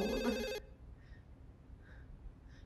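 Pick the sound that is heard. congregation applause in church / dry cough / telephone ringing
telephone ringing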